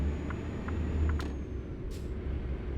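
Steady low truck engine rumble from a semi in American Truck Simulator, cruising at an even, economical pace, with a couple of brief hissing air-brake bursts over the drone.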